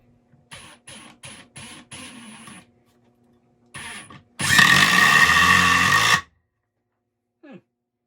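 A Metabo HPT 36V triple hammer impact driver drives in short bursts of rapid hammering, then a longer sustained loud impacting run, close and without speech.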